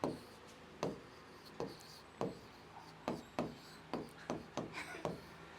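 Pen strokes scratching across paper in a short run of separate marks, some quick and clustered, close and fairly quiet with no talking.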